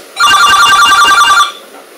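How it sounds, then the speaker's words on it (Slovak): A SIP desk phone in a workshop room rings with a fast electronic warble that holds steady for just over a second and then stops, loud and close, with no voices over it. "Zdvihnite niekto ten telefón."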